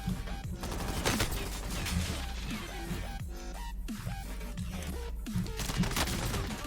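Gunfire from the Call of Duty Warzone video game: repeated bursts and volleys of shots layered over dense game effects and tonal sounds, loud and continuous throughout.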